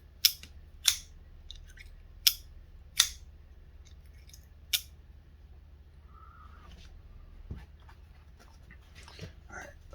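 Several sharp metallic snaps of a Kershaw Lifter folding knife opening and closing, spaced irregularly, followed by quieter fiddling clicks and faint rustling.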